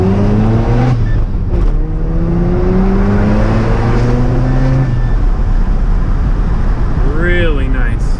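A Mazda RX7 pulls hard from first gear and climbs through several gears, its rotary engine note rising and dropping with each shift, loud and close throughout.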